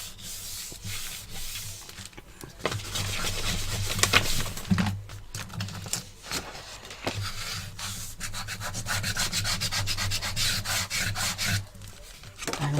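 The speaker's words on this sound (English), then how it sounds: "Burnish that down, get rid of the glue." Paper is burnished down onto glue for a Halloween album, a dry rubbing and scraping that runs almost continuously in close, fairly loud strokes with brief pauses.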